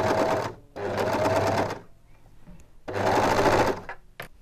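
Overlocker serging a blouse sleeve onto the front and back pieces, whirring loudly and close in two long runs with a quieter gap between them.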